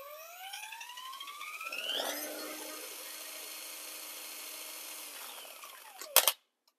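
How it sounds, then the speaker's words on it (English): A power drill spinning a mixing paddle for metallic floor coating winds up with a rising whine, then spins steadily at high speed for a few seconds before stopping abruptly. "I'll speed my drill up slowly."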